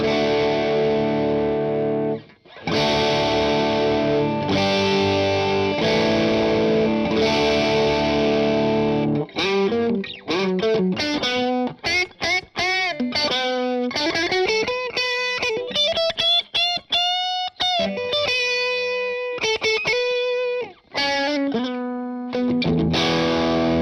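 Electric guitar through a Mercuriall software Tubescreamer overdrive plays sustained distorted chords, then a run of choppy, bending lead notes with short gaps, loud and close with no voices.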